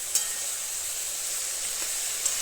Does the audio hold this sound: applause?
no